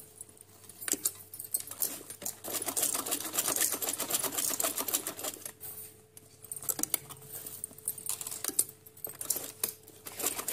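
Sewing machine stitching fancy trousers, a faint rapid mechanical chatter that runs in bursts with brief stops and restarts, fairly close.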